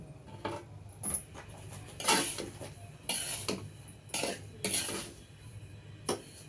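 Semolina roasting in ghee over low heat, stirred steadily with a metal spoon that scrapes and clinks against the pan in regular close strokes, with no talking.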